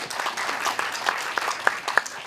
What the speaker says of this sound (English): which deserves a round of applause right there